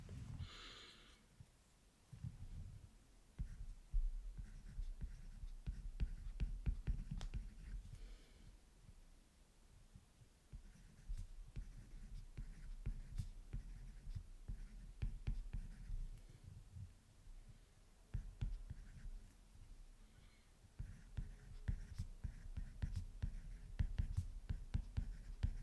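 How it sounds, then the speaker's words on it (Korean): Soft scratching of a pen or pencil writing on paper, close and quiet, in irregular strokes and pauses with faint breathing and room noise. "그럼 저는 그걸 한번 써볼게요."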